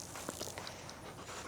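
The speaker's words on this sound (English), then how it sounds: "This is Xena, my dog" Dog panting in quick, steady breaths close to the microphone, short and continuous with soft outdoor rustling and no talking.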